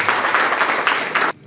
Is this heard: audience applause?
yes